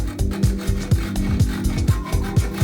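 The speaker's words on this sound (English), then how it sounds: "we're just going to start the saw" Hand saw taking light first strokes into wood at the start of a tenon cut for a Shaker table, steady rasping back-and-forth strokes in a regular rhythm, close and fairly loud.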